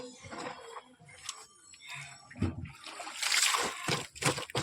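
Tap water splashes and sloshes in uneven bursts while clothes are scrubbed and dishes washed, close and fairly quiet, with clinks and wet slaps scattered throughout.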